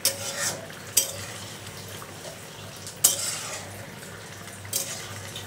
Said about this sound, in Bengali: আবার একটু উপর নিচ করে নেড়ে দেই